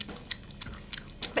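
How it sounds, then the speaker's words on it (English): Someone chewing gum close to the mic, soft wet smacking and squishing bites in an irregular rhythm, about five distinct chews over quiet background. "Just listen to someone talk as they're chewing gum."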